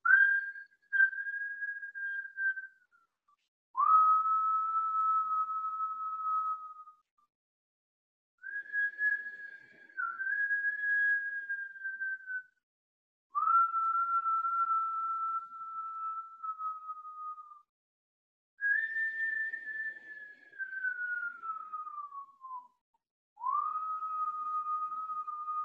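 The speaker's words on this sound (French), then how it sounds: "Donc en pinçant tes lèvres, inspire, expire en sifflant." A steady, sustained whistle forced through pursed lips during a yoga breathing exercise, repeated in six long exhales of a few seconds each, separated by silent inhales, clear and close with no talking.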